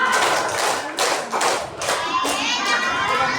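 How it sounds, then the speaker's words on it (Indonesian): Children at a school Maulid Nabi and farewell gathering clap hands in short rhythmic bursts, mixed with young voices chanting and chatter, close and lively. "Dan ada yang tepuk tangan."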